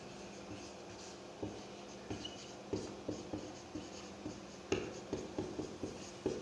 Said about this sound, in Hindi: यहाँ पर मैं लिख दे रहा हूँ सिंधु जल